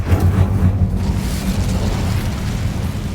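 The Incendio fire spell in the Hogwarts Legacy video game bursts out as a loud, rumbling roar of flame, dense and steady with a heavy low end, sustained throughout without voices.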